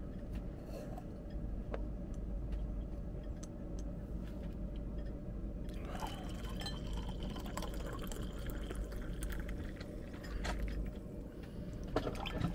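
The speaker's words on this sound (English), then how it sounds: "Just managed to boil a bit of water now for a cuppa." Freshly boiled water poured steadily into a cup to make tea, a continuous close splashing and filling sound that runs the whole time with no talking.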